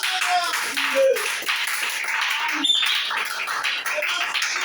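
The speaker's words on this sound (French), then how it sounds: "Acclamez très fort." A church congregation claps loudly and steadily in continuous applause, with faint voices mixed in beneath the dense clapping.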